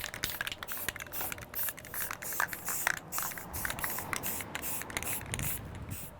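An aerosol can hisses in short and longer bursts as a light coat goes onto a rusty metal railing, close and fairly steady, with small rattles and scuffs between sprays.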